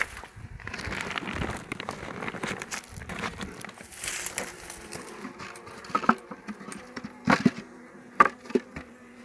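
Honey bees buzz around an open beehive weakened by varroa mites, a steady insect drone with scattered crackles and clicks from handling the frames, close to the microphone and with no talking.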